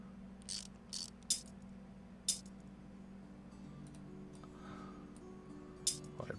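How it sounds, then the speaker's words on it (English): Screws being unscrewed in the restoration sim game The Repair House, a few quick ratcheting clicks and short metallic ticks scattered over a low steady background hum. "Take these screws off."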